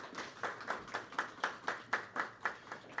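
Faint, evenly spaced clapping at a cricket league player auction event, a few hands beating a steady rhythm of about three to four claps per second throughout.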